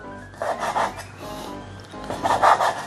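A knife cuts pork into strips on a board, giving two short bursts of scraping, rubbing strokes near the mic, one early and one late, with quieter handling in between.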